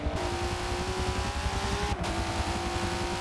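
Super 2 race cars at full speed around the Bathurst circuit, a loud, steady multi-cylinder engine drone that briefly dips around a gear change before pulling hard again.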